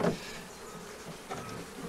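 A few honeybees buzz faintly around hive frames in a short, steady hum with slight rises at the start and end.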